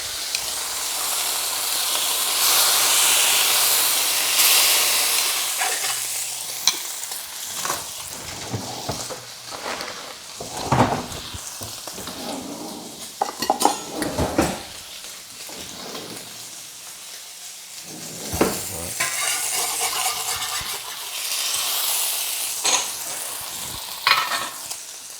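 Pork schnitzel sizzling and spitting in a hot pan, a steady loud frying hiss with occasional sharper crackles and pops as the meat settles, with no talking.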